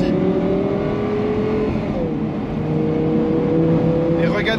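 Audi R8 V10 Spyder engine pulling hard as it re-accelerates out of a corner, a loud steady drone with a brief dip mid-way before the pitch climbs again, close and continuous.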